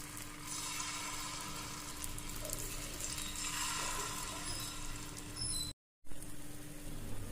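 Gunta ponganalu batter sizzles and fries steadily in oil in the cups of a paniyaram pan over a medium flame, a constant soft crackle with a faint hum beneath and a short cut near the end.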